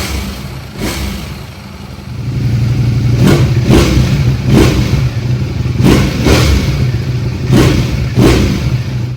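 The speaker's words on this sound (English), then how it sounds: "here's the difference what that sounds like just free revving it" A 2025 Ducati Panigale V4 engine free revs with its exhaust valve forced open, giving a loud steady idle broken by about six sharp, evenly spaced blips that rise and fall close by.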